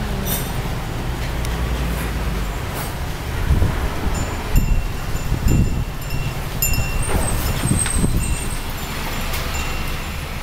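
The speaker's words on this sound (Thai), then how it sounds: "ลมแรง" Strong storm wind sweeping a street in Chiang Rai during an outdoor evening event, a loud continuous roar with gusty swells and rustling, with no talk.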